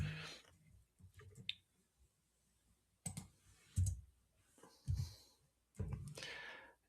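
Mouse clicks at a computer while building an AI agent in Copilot Studio, a few scattered sharp clicks separated by pauses, close and fairly quiet, with soft breaths and bumps in between.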